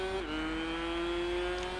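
A car in the Tourist Trophy racing game holds a steady, close engine drone that drops slightly in pitch as it slows for a corner, then settles into an even hum.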